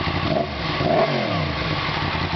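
A 2017 Yamaha FZ10 motorcycle fitted with a bypass exhaust revs nearby, a brief, steady, fairly loud engine drone that rises slightly in pitch, with no voices.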